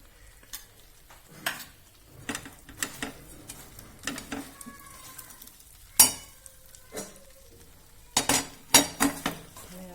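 Irregular scraping and clinking of a spoon stirring a thick katlu sweet mixture with grated coconut and dry ginger powder in a pan, close up, with a few louder knocks against the metal.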